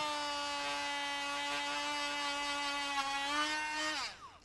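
A handheld rotary tool spins a felt pad against a block of beeswax, giving a steady high-pitched whine that holds for about four seconds, then dips and winds down sharply as it shuts off.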